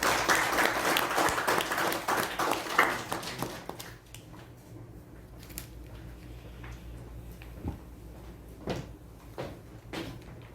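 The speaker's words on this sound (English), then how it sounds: "With a loud round of applause, help me welcome Shivu Uncle and Sabu Uncle on stage." Applause at a Toastmasters youth leadership event as two guests are welcomed on stage; loud clapping for about four seconds, then fading into quiet room noise with scattered knocks.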